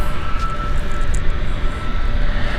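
An EasyJet Airbus A320 arriving at Gatwick from Palma gives a steady, fairly loud roar of jet engines that holds even for a couple of seconds.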